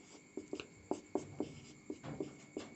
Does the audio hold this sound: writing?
yes